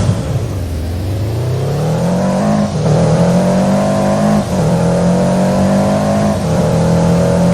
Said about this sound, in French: Mais moi la Supra en fait si je tourne je drift.